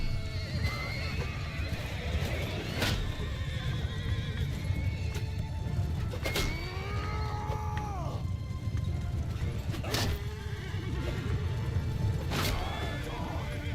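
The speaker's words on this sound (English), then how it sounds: "Got a looter on a horse." Several loud horse whinnies ring out, each rising and falling, over steady galloping hoofbeats in a medieval kingdom-building war game with bandits and looters, with no talking.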